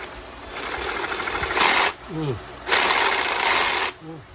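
A stripped bolt is cut off a BMW N54 engine on an E90/E92, with two loud, buzzing bursts from a cutting tool and a voice heard briefly between them.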